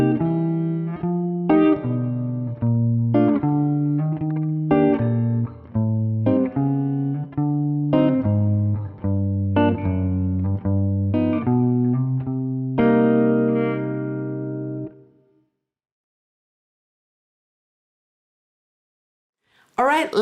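A walking bass line played on guitar at a slow tempo, one clear note per beat stepping along for about fifteen seconds, then silence with a brief note at the end.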